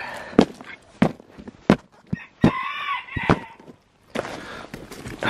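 Chickens and a rooster cluck, squawk and crow in a near, busy burst of repeated calls by a backyard chicken coop in thawing winter weather.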